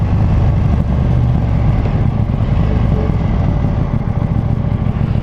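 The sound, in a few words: KTM Duke 790 motorcycle engine during test ride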